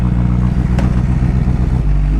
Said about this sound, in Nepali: यसको सानो छ नि त त्यही भएर सानो एक्जस्ट त्यही भएर हल्का लाउड त छ